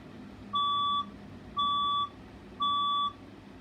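A building fire alarm sounds three evenly spaced, piercing electronic tones, each about half a second long with short gaps, loud and alone over a low room hum.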